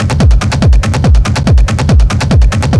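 Looped rumble kick drum sample from a sample pack, deep booming kicks with a descending low tail repeating in a steady four-on-the-floor pulse, loud and close with no voices.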